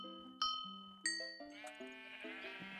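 Several sheep bleat in quick succession in Minecraft on the Hypixel server, clean, close game sound effects with shifting pitches overlapping one another.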